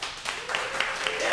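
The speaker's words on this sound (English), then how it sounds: "you guys clap and cheer, and we'll just make a lot of noise for whichever one you like better" Audience clapping and cheering at a roast battle comedy show, a short burst of applause with whoops rising over the crowd noise, sustained throughout.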